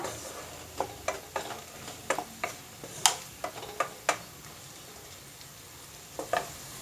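Ivy gourd sautéing in hot oil in a pan with salt added gives a low, steady sizzle, broken by a dozen or so crisp ticks and pops spaced irregularly through the stretch, with no talking.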